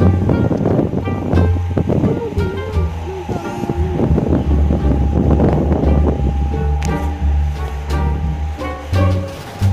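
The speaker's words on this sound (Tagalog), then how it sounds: "Mahangin guys, mahangin." Wind buffets the microphone with a loud, rumbling roar, and a voice can be heard talking faintly under the gusts.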